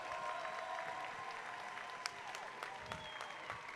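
Audience applause at a digital media senior showcase, steady clapping from a crowd filling the whole moment at moderate, somewhat distant level.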